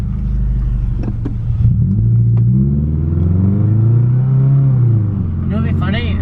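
A Subaru Impreza 2.5 RS with its muffler deleted revs up close and loud, the engine note climbing and falling in a raw, rasping sweep, with voices talking over it.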